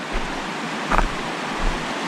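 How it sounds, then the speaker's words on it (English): A river rushing along a forest creek, a steady broadband wash of flowing water heard close by, unbroken throughout with slight swells. "get to this river now"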